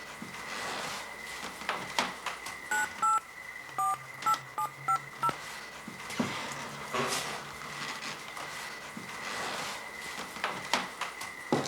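A telephone is dialed to call the police: a quick series of distinct DTMF keypad tones, roughly ten short beeps in an uneven rhythm, sounds close and clear over faint room noise with no talking.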